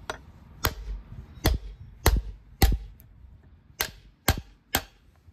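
Seven sharp metal-on-metal hammer strikes drive a spindle bearing race into a TTB 4x4 hub with an 81 mm bearing driver, spaced at uneven intervals with quiet gaps between, close and loud.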